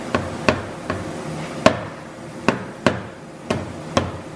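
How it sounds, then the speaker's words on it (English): Steady hammer strikes drive a nail through holes in a workpiece, about nine sharp, evenly spaced blows over a few seconds, close and fairly loud with no talking. "Hammer it right through."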